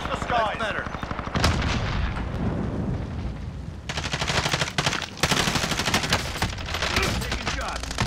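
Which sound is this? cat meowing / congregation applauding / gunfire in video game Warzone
gunfire in video game Warzone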